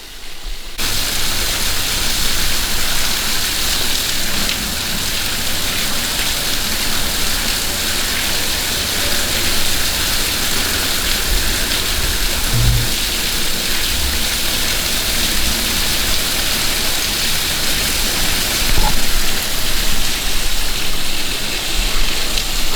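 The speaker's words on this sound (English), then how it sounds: "But here it is, waterfall number 4." Steady broadband roar of a waterfall at Bulge Hole in Southern Illinois, a continuous rushing wash of falling water that stays loud and even throughout with no voices.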